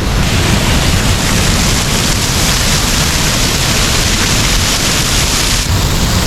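High floodwater after rain pours over the A-ET Dam in Sulat, Eastern Samar, a loud, constant roar of rushing water with no break from start to finish.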